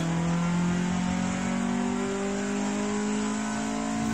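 Honda Civic SiR with a B16A engine accelerating hard on a dyno, a steady loud engine note with rising harmonics held throughout, no voices.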